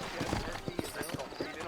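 Horse hooves clip-clopping in the Red Dead Redemption video game, a quick run of faint uneven hoof knocks over a busy background, with a voice talking over them.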